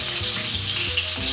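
Pieces of hake and prawn for a shell stuffing frying in hot oil, a steady, dense sizzle that stays close and loud throughout, with no talking.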